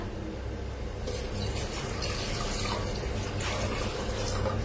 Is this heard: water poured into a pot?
yes